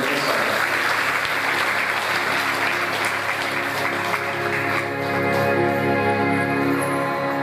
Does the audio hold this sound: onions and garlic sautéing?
no